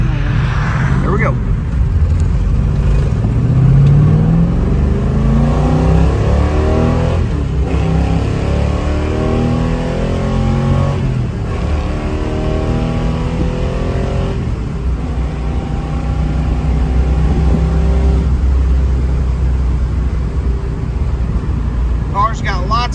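A 1969 Chevrolet Camaro Z/28 V8 engine rises and falls through several gears under hard acceleration, loud and roaring throughout, with people talking over it inside the car.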